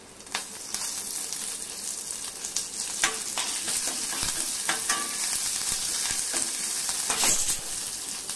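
Cumin seeds and curry leaves sizzle and crackle in hot oil for a tempering, with steady frying hiss, sharp spitting pops and occasional stirring scrapes, close and continuous throughout.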